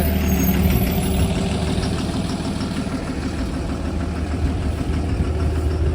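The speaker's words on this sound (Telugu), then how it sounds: "ఆ బస్సు సౌండ్ మీకు వినిపిస్తుందని" A bus passing along a city street at night, a steady, loud low engine rumble with broadband traffic noise that holds through the whole stretch without a clear rise or fade.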